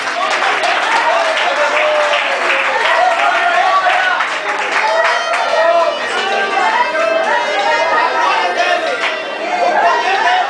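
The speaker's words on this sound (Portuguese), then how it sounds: "uma salva de palmas para Jesus" A church congregation applauds loudly and continuously for about ten seconds, with cheering voices and chatter mixed into the clapping.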